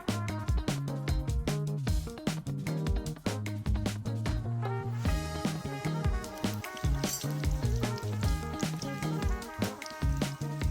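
Onions fry in hot oil in a pan outdoors in a forest while chicken curry is being made, with a continuous close sizzle, crackle and stirring throughout.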